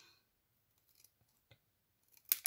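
Small scissors snipping through vellum paper during card making, a few faint isolated cuts followed by two sharper, louder snips close at hand, with no talking.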